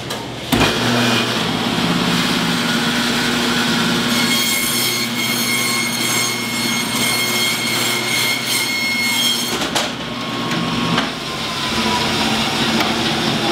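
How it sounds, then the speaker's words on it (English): A butcher's bandsaw cuts the chine bone, the spine, off a pork cut with a loud continuous grinding whine and a high squealing tone as the blade bites through bone, stopping near the end. "Bring it over to the bandsaw. We're going to take the chine bone off, which is the spine"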